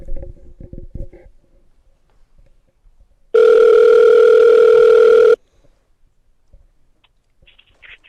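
A steady telephone dial tone sounds loud and alone for about two seconds during a call setup for a live interview, preceded by faint clicks and handling noise.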